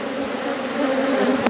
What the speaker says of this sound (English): Bees are a little bit more flighty now